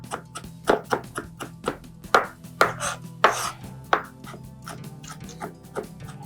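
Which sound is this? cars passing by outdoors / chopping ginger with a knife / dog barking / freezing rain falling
chopping ginger with a knife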